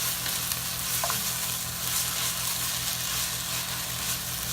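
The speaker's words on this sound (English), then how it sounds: "I'm just going to keep stirring because you don't want them to burn" Chopped stew vegetables fry in a pot for chicken stew, giving a steady, close sizzle with faint scraping from stirring running throughout at an even level.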